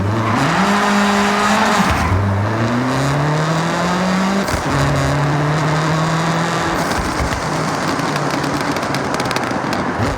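A car fitted with a race exhaust in the video game Forza Horizon 6 revs loud and close, its engine pitch climbing through several gear shifts with tire squeal and crackling pops throughout.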